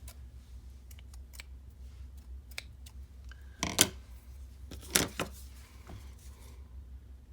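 Scissors snip twine for a handmade card, a few sharp close clicks and crisp cuts scattered over a quiet background.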